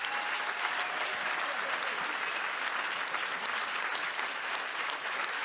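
Film festival audience applauds the director after a screening, a dense, steady wash of clapping from a full hall throughout, with no voices standing out.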